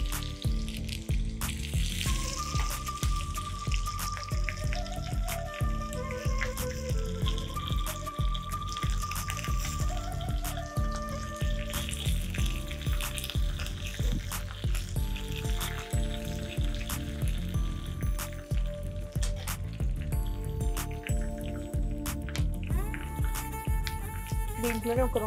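Curry leaves, mustard seeds and cumin frying in hot oil, a continuous crackling sizzle with popping spatters, heard close and steady throughout, with music playing along underneath.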